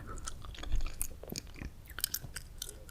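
Close, moist gum chewing with soft smacks and small crunchy clicks repeating in an uneven rhythm, alone with no talking.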